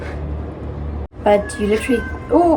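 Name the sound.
domestic cat meowing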